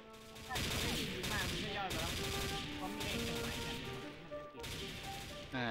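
Rapid gunfire in the XSHOT shooter, long automatic bursts separated by brief pauses, with metallic ringing tones and shell clatter between shots, fairly close and loud.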